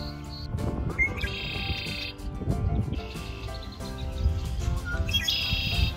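A red-winged blackbird calls in Horicon Marsh, Wisconsin, its high trilled song phrases repeating three times over a steady background of other bird chirps and marsh ambience.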